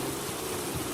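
Steady, dense hiss of rain in Minecraft, even and continuous with no break, fairly loud and without voices.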